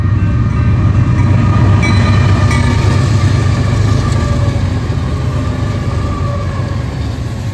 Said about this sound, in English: here's a westbound intermodal.